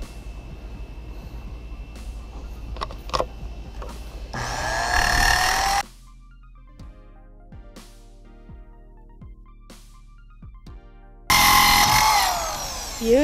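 A power saw rips through a warped wooden board clamped in place while building an outdoor lizard enclosure, two loud, harsh cutting bursts with quieter workshop knocks and clatter between them.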